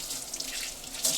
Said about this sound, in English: Now it's time to wash our hands.